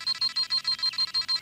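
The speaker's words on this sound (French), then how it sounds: "Le signal d'alarme? Mais qu'est-ce que ça veut dire?" Dragon Ball Z scouter alarm signal, a rapid series of about nine identical high electronic beeps in steady rhythm, loud and close with nothing else heard.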